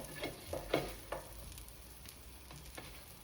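French toast fries in a pan with a low, steady sizzle, punctuated by several soft scraping and tapping sounds from a spatula, and no voices.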